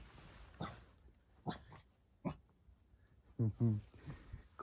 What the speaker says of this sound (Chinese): 过来，过来，看一下狗崽子